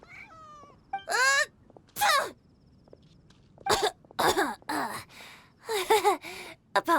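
A Genshin Impact character gives a series of short coughs, gasps and throat-clearing sounds from a cat allergy, in several separate close bursts with quiet gaps and no speech.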